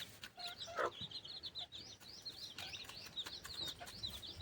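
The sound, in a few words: country chickens clucking on a village farm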